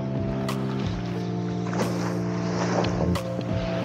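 Sea at Pattaya Beach, Thailand, with a steady broadband wash of surf and wind, continuous and fairly loud, layered over low droning hum and a few brief louder bursts.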